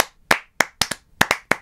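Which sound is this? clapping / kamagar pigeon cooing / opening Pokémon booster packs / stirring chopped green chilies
clapping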